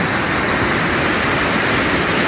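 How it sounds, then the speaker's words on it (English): River water rushes steadily down into a hole in a lava tube, a loud, unbroken roar of turbulent flow close by with no voices. "So here's where the river comes down,"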